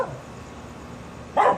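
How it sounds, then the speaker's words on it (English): A single short dog bark rings out near the end, following a quiet stretch with faint background noise. "Sorry about the dog."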